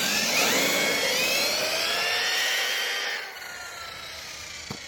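A HoBao Hyper TT RC car's small engine screams at top speed, a loud, high, whining buzz that sweeps in pitch as it passes, then drops away to a fainter drone near the end.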